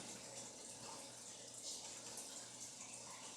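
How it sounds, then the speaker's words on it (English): Bubbling inside a jar of chicken thighs during pressure canning, a faint, steady, hissing simmer that runs continuously without clear breaks. "You can hear kind of a bubbling sound going on inside the can."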